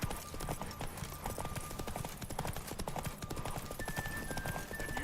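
Horses gallop in a derby race in the video game The Witcher 3, a fast continuous clip-clop of hooves with a faint whinny, steady and close throughout.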